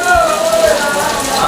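Rain falls steadily at a crowded Dhabaleswar temple site near Cuttack, a broad even hiss with a faint tonal whine threading through it.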